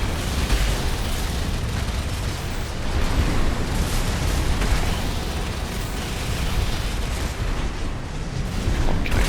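Assault armor blast from the mech game Armored Core 6, a dense, loud and continuous rumbling roar of explosive energy that holds steady for several seconds with little variation.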